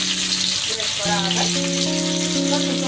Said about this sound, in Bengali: আদাটা একটু ভাজা ভাজা হলে তারপরে তার মধ্যে বেশি ভাজা দরকার